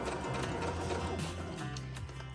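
A sewing machine stitches a fabric liner onto a crochet bag: a continuous, close, rapid mechanical whirring and clatter at a steady pace.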